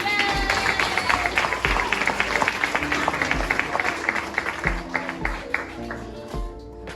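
An audience at a summer institute award ceremony claps in a dense, steady burst of many hands, close and lively, before tapering off near the end.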